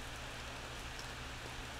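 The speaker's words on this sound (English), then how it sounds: "It was a rainy after school day," Rain falling in the horror video game Corpse Party, a soft, even hiss of steady rainfall with a faint low hum beneath, quiet and continuous with no voices.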